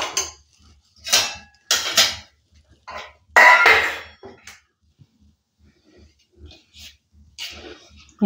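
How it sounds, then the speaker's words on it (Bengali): Fried rice with chilli chicken masala and ghee is stirred in a pan: separate metallic scrapes and clanks of the spatula come in irregular bursts, close by, with quiet gaps between. "এরপর পুরোটাই নেড়ে দেবো, এইভাবে একসঙ্গে মিক্স করে নেবো।"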